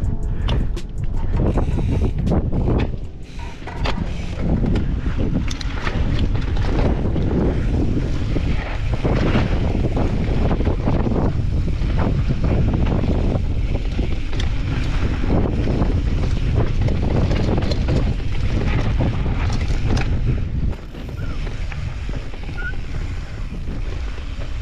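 Strong, steady wind buffeting the microphone at the Fontana racetrack, a loud continuous roar that barely lets up through the whole stretch, with no voices.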